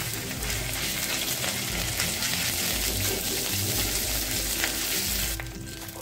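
Cumin, fennel seeds, dried red chilli and ginger fry in hot oil over a low flame, a loud dense continuous sizzle close by that drops off abruptly near the end.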